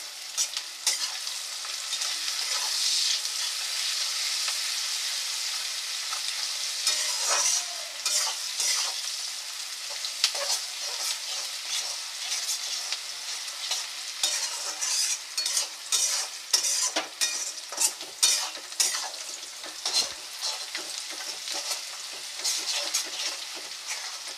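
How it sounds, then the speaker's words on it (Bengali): Sliced onions fry in hot oil in a pan with a steady sizzle while a spatula repeatedly stirs and scrapes, the stirring clicks growing more frequent toward the end; no voices. "পেঁয়াজ ভাজার সময় একটু লবণ দিয়ে দেবেন, তাহলে পেঁয়াজটা তাড়াতাড়ি ভাজা হয়ে যাবে।"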